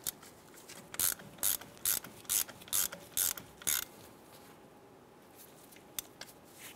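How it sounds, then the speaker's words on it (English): Ratchet tightening a bolt on the right front brake hose of a 2002-2008 Dodge Ram 1500, eight quick bursts of clicking in a steady rhythm, close and fairly loud, followed by quiet with a single faint tap. "go ahead and tighten down this bolt"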